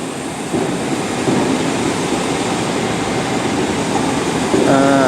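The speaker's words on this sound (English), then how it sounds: "Here's a Class 314, terminating in again." A Class 314 electric train pulls into Glasgow Central station with a steady rumbling roll and a few faint rising tones near the end, loud and close.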